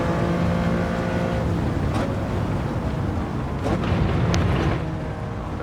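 A 1974 Lamborghini Countach in the racing game Gran Turismo 7 emits a loud, sustained engine roar that swells slightly midway and eases toward the end, with no talking over it.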